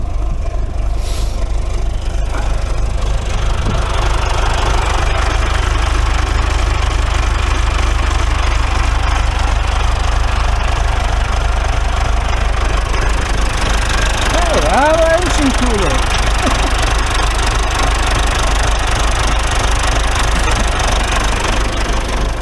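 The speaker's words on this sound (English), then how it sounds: "I have to raise the snowblower." A snowblower engine runs steadily through deep winter snow, a constant low rumble with a faint knocking texture that holds evenly from start to finish, loud and close.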